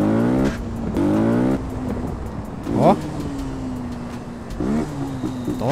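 A Honda Sahara 300 motorcycle with its original exhaust revs up close and loud in four sharp bursts, each quickly dropping back to a steady idle, while a voice briefly calls out.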